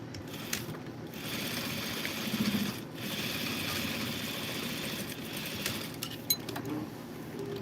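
A sewing machine stitches a hem with a steady, close mechanical whir that runs almost the whole time, with brief pauses and small clicks along the way.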